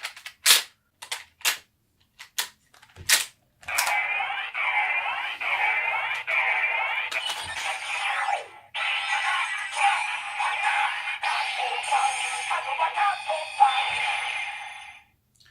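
CSM OOO Driver toy belt in its standard mode, starting with several sharp clicks and snaps, then electronic chiming and warbling effect sounds in two long bursts, close and with no voice.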